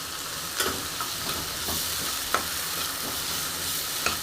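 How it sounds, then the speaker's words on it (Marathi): Soaked chana dal fries in a pan for a bottle gourd bhaji, giving a steady hissing sizzle broken by several sharp spatula knocks and scrapes, close up with no talking. "आता मी याच्यामध्ये चण्याची डाळ जी भिजून घेतली होती ती याच्यामध्ये टाकणार आहे हिला छान असे फ्राय करून घेणार आहे"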